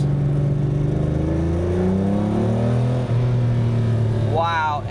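A Lamborghini Countach engine drones steadily and close from inside the car, its pitch climbing in a smooth rev through the gears, with a shift break near three seconds and a rising whine at the end.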